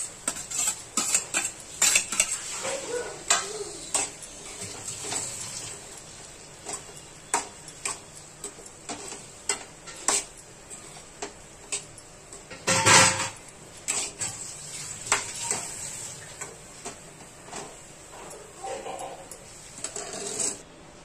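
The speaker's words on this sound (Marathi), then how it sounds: "आता हा शिजलेला भात आहे, मिक्स करत आहे।" Cooked rice is mixed with prawns in a pan: steady scraping and clinking of a utensil against metal, repeated in an uneven rhythm, close and moderately loud.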